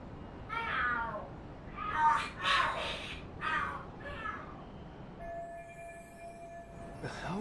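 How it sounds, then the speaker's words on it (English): Cats fighting and screaming in the video game Lost Judgment: drawn-out yowls and shrieking caterwauls rise and fall in several bursts at moderate loudness, followed by a steady electronic tone from the game. "Are there cats fighting?"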